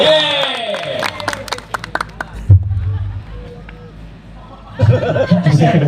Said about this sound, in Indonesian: Boleh tepuk tangan buat kita semuanya.